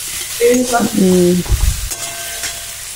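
Okra being stirred in a pan with salt and turmeric, a short sizzle with a few scraping strokes of a spoon, close and moderately loud, without any talk.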